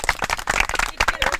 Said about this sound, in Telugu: టాపర్ రా చప్పట్లో